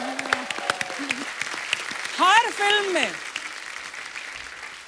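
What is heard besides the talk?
audience applause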